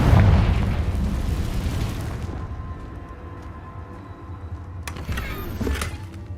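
Confringo fire curse exploding in Hogwarts Legacy on hard mode, a heavy rumbling boom that slowly fades, then a further burst of crackling impacts near the end.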